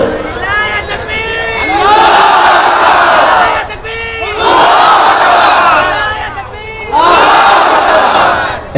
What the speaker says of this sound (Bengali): কে আছো দাঁড়িয়ে যাও, দাও তাকবীর, 3টা তাকবীর দিবা জোরে সোরে